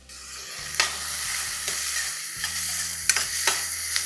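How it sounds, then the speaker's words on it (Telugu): Thinly sliced onions and green chillies frying in oil with cardamom and cinnamon for aloo kurma, a steady close sizzle broken by several sharp spatula scrapes, with a low electrical hum underneath and no talking. "సన్నగా తరిగి పెట్టుకున్న ఉల్లిపాయలు వేసుకున్నాం అలాగే పచ్చిమిర్చి కూడా"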